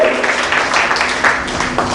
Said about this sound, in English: I think all the advisors of our circle need this applause.